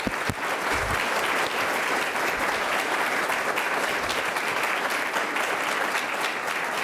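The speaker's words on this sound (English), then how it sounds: "I would like her to stand up and take a healthy applause" A lecture audience at a University of Vermont medical college event breaks into steady, loud, continuous applause, many hands clapping evenly for the whole stretch with no voices over it.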